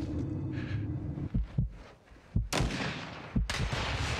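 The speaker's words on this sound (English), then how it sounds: "there's somebody sniping on the left" Sniper rifle shots in a video game, heard as muffled low thumps followed by two sharper cracking bursts, fairly faint and spaced apart.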